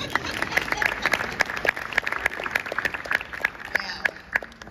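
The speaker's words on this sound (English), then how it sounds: "You can clap for her." Conference audience applauding at a national county officials' annual gathering, steady sustained clapping from a large crowd with crisp individual hand claps throughout, fading slightly toward the end.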